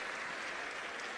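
Loud, dense applause from the crowd at a municipal corporation ceremony in Delhi, a continuous wash of clapping heard at a distance and held steady for the whole short stretch.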